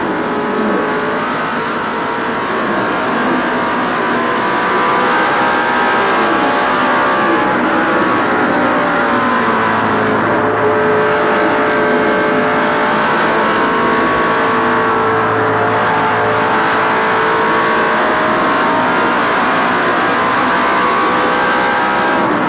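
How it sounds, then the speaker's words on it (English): NASCAR Winston Cup stock car lapping Darlington race track during the 1988 TranSouth 500, a loud continuous engine roar with rising and falling pitch, heard from inside the car, no talking. "Let's just take a lap here with Dale, and we'll hear what it's like to watch and to listen a lap at Darlington."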